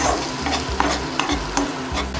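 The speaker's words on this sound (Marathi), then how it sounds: "ही सर्व पेस्ट आपल्याला मसाल्यामध्ये घालून घ्यायची आहे" Spice paste being stirred and fried over a low gas flame in a pan for a Maharashtrian veg thali, with a steady sizzle and periodic scraping strokes of the spoon, close and continuous.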